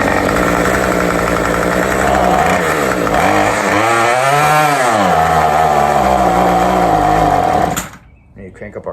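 A Remington RM2510 cultivator's small engine runs loud and close after being choked while still cold, its buzzing note wavering and dipping mid-run before it cuts out abruptly near the end, leaving quiet.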